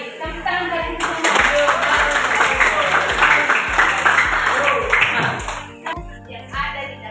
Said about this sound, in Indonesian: Tepuk tangan bagi semua